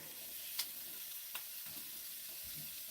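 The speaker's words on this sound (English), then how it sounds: "Frying up the stuff for the dogs. Cooking them dinner. Yeah, boy. Get that sizzling." Quiet, steady sizzling of homemade dog food frying in a pan, with a couple of faint clinks and scrapes as it is stirred.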